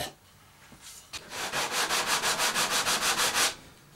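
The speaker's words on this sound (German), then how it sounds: "Und zu meinem Vergnügen gehen wir jetzt wieder Kanten schleifen." Edges of a Swiss stone pine bread box are hand-sanded, a quick run of rhythmic back-and-forth strokes that starts after a short pause, loud and close, with no voices.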